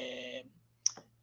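A single sharp click of a computer mouse right-click, close and brief, following a short fading tone in an otherwise quiet room.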